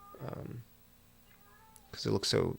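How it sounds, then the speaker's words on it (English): Pet cat meowing indoors, a short cry at the start followed by a pause, then brief bursts of close vocal sound, with a person's voice also present. "She found something, and I just had to tell her she did a good job, and then she stopped meowing."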